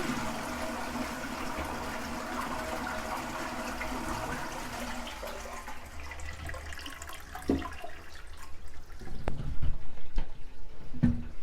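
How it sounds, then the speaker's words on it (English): A toilet flushes in a bathroom en suite, a sustained rushing of water that gradually thins into gurgling refill and trickling, close and steady. "I'm just going to flush that down"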